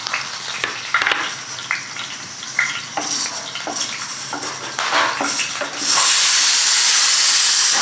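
Bay leaves, black peppercorns, a cinnamon piece, green and black cardamom, and cloves go into a spoonful of hot oil for a keema masala, with clinks of a spoon against the pan before a loud, steady sizzling hiss takes over near the end.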